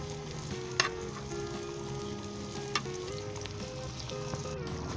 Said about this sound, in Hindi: हम मज़ीद इसे आधे मिनट के लिए फ्राई करेंगे